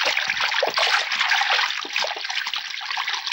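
Tap water runs in a strong, steady stream, loud and close, with a continuous splashing hiss and no voices.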